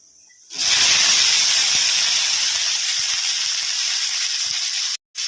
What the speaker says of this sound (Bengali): ডালটা এদিকে প্রেসারে বসিয়ে দিয়েছি।